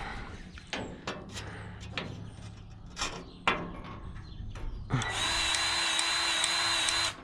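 Grease gun forcing grease into a fitting on a green chopper: a few scattered clicks and knocks, then a steady whirring mechanical drone that holds for the last couple of seconds, close and fairly loud.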